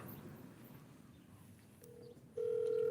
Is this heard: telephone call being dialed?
yes